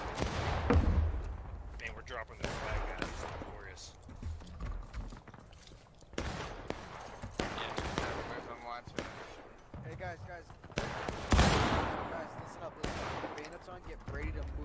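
Gunfire rattles through a video game battle, repeated sharp shots and bursts coming loud and close in an irregular barrage, with voices shouting and talking over the shooting.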